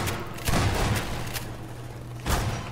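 Gunshots in Half-Life 2, a PC shooter game: two loud, punchy blasts about two seconds apart stand out over steady game background hum and low ambience.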